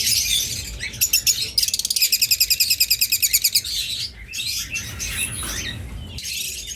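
Two pet cage birds, a male and female pair, chirp and trill up close: a fast rapid-fire run of repeated notes, then scattered tweets and calls, loud and with no voices.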